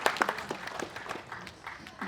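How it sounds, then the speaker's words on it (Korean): Audience applause welcoming guests at a memorial ceremony for founding president Syngman Rhee in a memorial hall, a brief, moderately loud burst of clapping with a voice speaking over it. "박수로 환영해 주시면 대단히 감사하겠습니다"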